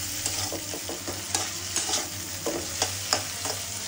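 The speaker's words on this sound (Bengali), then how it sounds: "এখন হচ্ছে এটা হালকা ভেজে নিব" Lotka dried fish fries lightly in hot oil with salt and turmeric, a steady close sizzle broken by repeated scraping stirs of a spatula against the pan, with no voices present.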